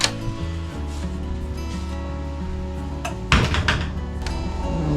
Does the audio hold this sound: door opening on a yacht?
yes